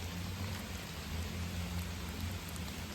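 Steady rain falls outdoors, a soft even hiss with a low rumbling undertone running continuously throughout, fairly faint and with no voices.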